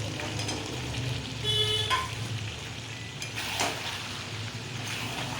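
Potatoes stir-fried into a chicken curry give a soft steady sizzle with scraping stirs, faint and continuous, with a brief distant vehicle horn in the background.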